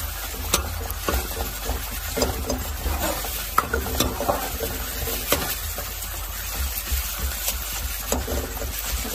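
Tomatoes cook down in a pan with a continuous soft sizzle and bubbling, broken by scattered scraping stirs of a utensil, close and moderately quiet throughout.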